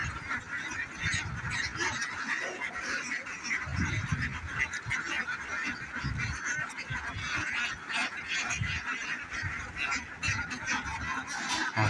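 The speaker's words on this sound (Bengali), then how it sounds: "এখানে প্রচুর হাঁস রয়েছে।" Hundreds of ducks quack together at a large farm in Chuadanga, Bangladesh, a steady crowded wash of overlapping calls heard from a short distance, without clear speech.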